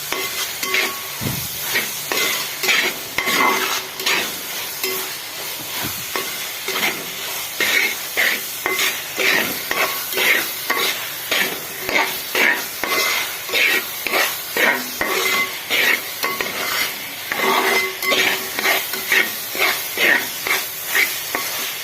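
Sliced onions frying in a pan, stirred steadily so they soften without sticking; a constant sizzle overlaid by rhythmic spatula scrapes repeating about once a second, close and fairly loud.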